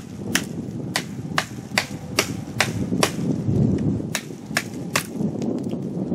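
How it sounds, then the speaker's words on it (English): A Bear Forest Knives Woods Butcher bowie knife strikes cedar limbs again and again, giving sharp, loud chopping cracks at a steady, slightly uneven rhythm over light outdoor background noise. "I'm going to process some of these other limbs off so I can easily cut it up for firewood."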